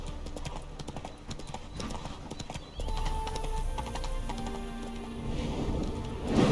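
Hooves of Roach, the horse in The Witcher video game, clip-clop in a steady trotting rhythm, close and fairly loud over a low ambient game backdrop, with a brief whinny-like tone near the end.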